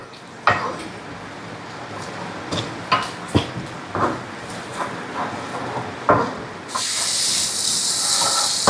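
Tomato, garlic and ginger masala sautéing in a pan for egg masala, a steady hiss with scattered clinks and scrapes of a utensil against the pan, growing into a louder sizzle near the end.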